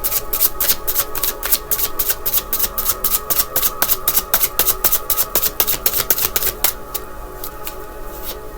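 Rapid riffle of cards being shuffled, a quick crisp flutter of snapping edges for several seconds before trailing off, close and alone.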